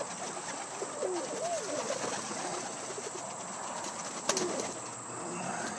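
Pigeons, Portuguese tumblers and Egyptian swifts, coo softly in a low, rolling rhythm against a steady outdoor hiss, with a brief flutter or clatter near the end.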